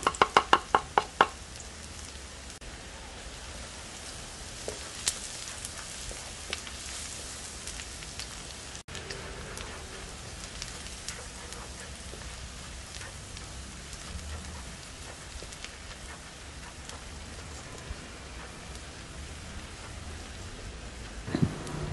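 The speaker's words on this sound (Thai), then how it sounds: "ขั้นตอนนี้เดี๋ยวเรามาเจียวกระเทียมกันก่อน" Garlic fries in oil in a pan over low to medium heat, a steady, even crackling sizzle running throughout, with a few sharp taps at the start and again at the very end.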